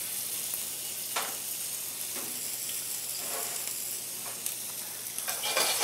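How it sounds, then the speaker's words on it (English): Italian garlic roasts in olive oil in a pan, a soft, constant sizzle with faint crackles and occasional brief scraping stirs, fairly quiet and steady throughout with no voices. "Got a little olive oil here. Roasting my Italian garlic."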